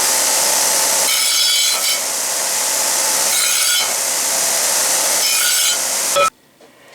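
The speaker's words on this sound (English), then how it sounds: "clean it up just a little bit so it's not sharp on the abrasive belt sander" An abrasive belt sander smooths a sharp steel edge, its loud steady whine and grinding rasp running continuously with slight pulses as the piece is worked, then cutting off abruptly near the end.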